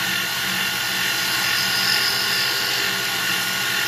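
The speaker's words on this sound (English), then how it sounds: "I'm going to advance this in for a bevel on the outer edge." A lathe tool cuts a bevel into the outer edge of a stainless steel and brass ring, giving off a steady, loud whirring grind with a high metallic hiss that runs without a break.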